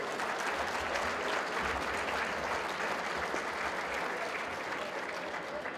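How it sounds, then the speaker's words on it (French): A full audience at an evening gala in a manor hall claps for the partners, a thick, sustained round of applause that stays even from start to finish. "Je pense qu'on peut donner une bonne main d'applaudissement à tous ses partenaires."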